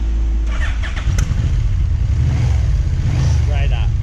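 A hot Yamaha Vmax motorcycle engine cranks and catches, settling into a loud, close, steady low idle rumble that runs throughout.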